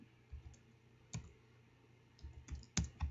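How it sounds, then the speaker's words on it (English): A command is typed on a computer keyboard as a handful of faint, sparse key clicks in an otherwise quiet room, with no talking. "I'm going to type in"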